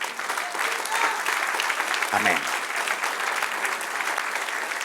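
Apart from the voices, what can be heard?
congregation applauding in church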